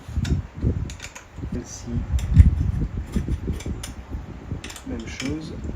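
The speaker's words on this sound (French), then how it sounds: "On va venir serrer les vis de tout à l'heure." Screws are tightened on the motor mount of a modern Solex-style electric bike, with close metallic clicks and ratcheting taps at an irregular pace, while someone talks briefly.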